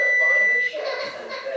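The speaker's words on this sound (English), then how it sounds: "My timer is done." A kitchen timer goes off while cornmeal pudding bakes, one loud steady beep lasting over half a second, after which a voice speaks over faint background noise.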